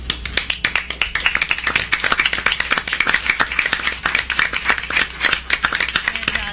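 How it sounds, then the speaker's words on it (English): A smaller group at a board meeting claps steadily, committee members and supporters standing as the sharp, close hand claps patter on at an even density throughout with a low hum beneath. "Get a round of applause."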